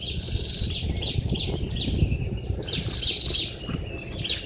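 Birds chirp and trill in bright repeated phrases over a steady insect buzz outdoors on Cao Minh island in Tri An Lake, Dong Nai, continuous and fairly close with no talking.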